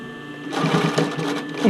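A sewing machine stitches the fitting band of an Eve Classic bra. The first half second is near-silent, then a steady, close whirring and rapid stitching runs to the end.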